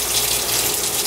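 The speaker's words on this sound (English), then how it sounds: "I like to clean my hands really well" Tap water runs in a steady close gush while hands are washed at a kitchen sink before cooking, a continuous splashing stream with no talking.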